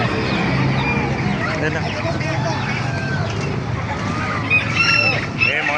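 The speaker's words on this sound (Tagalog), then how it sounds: "Tsaka manok na Chinese eh." Chinese chickens cluck and squawk close by among other farm birds at an animal market in Baliuag, while a person talks over them now and then.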